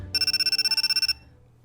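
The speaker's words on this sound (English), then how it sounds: "a certain phone call arrived" A phone rings in the visual novel Labyrinth of Grisaia, a bright electronic trill of rapid pulses lasting about a second, then stopping abruptly and leaving a quiet backdrop.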